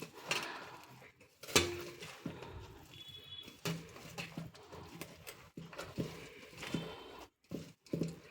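Dry beaten rice (poha) chivda ingredients tossed and stirred in a bowl for a crispy evening snack, giving irregular rustling scrapes and light clinks of utensil on bowl, close and fairly quiet.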